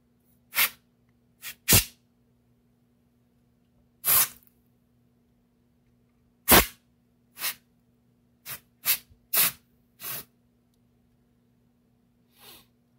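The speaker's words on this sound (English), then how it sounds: "Let me go get the can of compressed air and we shall continue this." A can of compressed air sprays into a wah pedal in about ten short hissing bursts of uneven length and spacing, loud and close, with quiet gaps between them.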